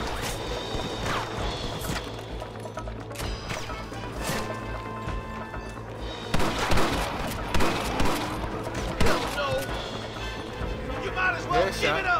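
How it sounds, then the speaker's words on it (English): Gunfight in Red Dead Redemption, scattered gunshots and impacts under dialogue and game sounds, with a denser cluster of loud shots midway. "In the middle of a gunfight."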